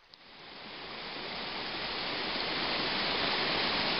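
Continuous broadband roar of river rapids at Squirrel Rapids in Barron Canyon, a steady rushing wash of whitewater that swells slightly at the start and then holds loud and even throughout, with no voices.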